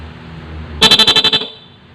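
A stock car horn, modified to run off one switch using a negative trigger, gives a single loud, fast-pulsing honk of about half a second, close by and alone.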